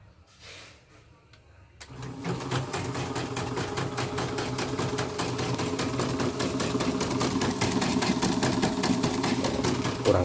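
An embroidery machine with a detached part runs steadily after a quiet start, a dense mechanical clatter with a repeated knocking thud, close and loud throughout.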